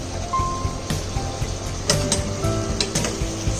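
Spicy chicken gizzard and liver adobo simmering in a pan on the stove, a soft steady bubbling sizzle with occasional light pops and faint clinks, close and fairly quiet with no talking.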